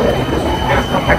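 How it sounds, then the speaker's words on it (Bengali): A Bangkok metro train pulls into a station near Siam Center, a steady low rumble and mechanical clatter filling the platform while voices murmur underneath. "3 নম্বর স্টেশনের পরেই এই যে ট্রেন এসে পড়ছে।"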